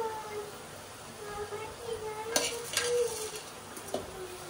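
Washed rice goes into a hot pan over whole spices and is stirred, a soft scraping sizzle with a few sharper clinks of a spoon against the pan, fairly quiet.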